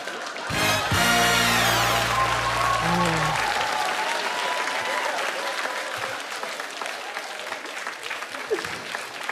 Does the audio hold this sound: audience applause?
yes